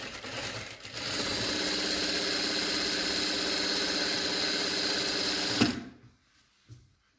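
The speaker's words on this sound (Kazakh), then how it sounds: "Ал енді тігіс тігейік." A Jack F4 industrial sewing machine stitches at a steady fast whir for about five seconds, close and loud, then stops abruptly with a brief clunk.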